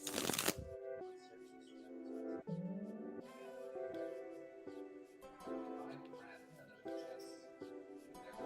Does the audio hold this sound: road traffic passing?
no